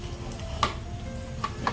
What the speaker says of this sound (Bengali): এমনি করে সব চিকেন পপকর্নগুলো ভেজে নেবো